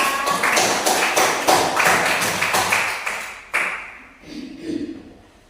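A classroom applauds a student group, with loud, close clapping from many hands for about three seconds that thins out and fades, followed by a few faint voices.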